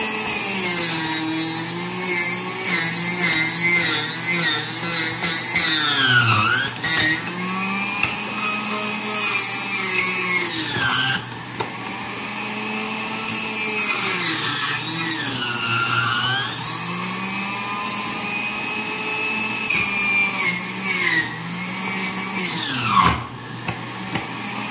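A juicer motor labours through pineapple, its whine bending down in pitch each time it strains under load and then recovering. The loud, continuous drone holds for the whole stretch, with several deep sags where the fruit jams.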